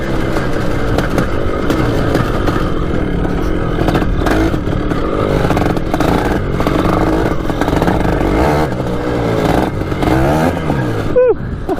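An old three-wheeler, left sitting outside for years and now on a flat back tire, runs loudly and steadily close by, its engine revving in repeated surges without reaching full throttle, with rattling clatter throughout.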